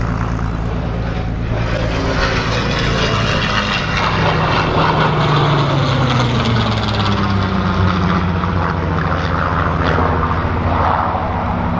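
A loud, steady propeller airplane engine drones throughout, its pitch wavering slightly as it runs, with no talking.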